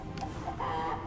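A cartoon chicken clucks in the Duck Dodgers video game, a few quick, close, bright clucks over faint game background.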